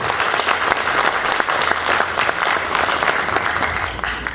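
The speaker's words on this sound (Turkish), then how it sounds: "Bu güzel alkışlarınızla programımız inşallah daha da güzel olacak diyorum" Sustained, dense applause from an audience at the opening ceremony of a traditional folk minstrels' festival in Ankara, steady clapping filling the whole stretch at close range.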